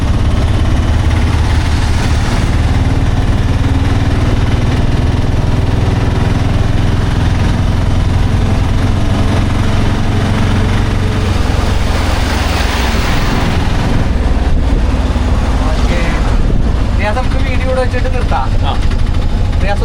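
A 2026 Piaggio Ape Classic auto rickshaw engine runs loud and close with a steady low rumble and vibration, a voice talking over it the whole time.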